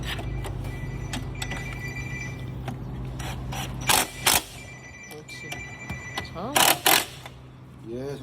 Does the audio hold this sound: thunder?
no